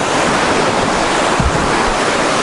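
Rushing river water flows beneath a bridge on the trek to Ala Kul Lake in Kyrgyzstan, a loud, steady broadband roar of churning current with no voices over it.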